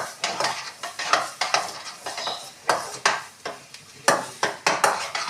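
Carrot pudding with sugar being stirred and roasted in a metal pan, with repeated close scraping strokes of the spoon against the pan in an uneven rhythm over a soft sizzle.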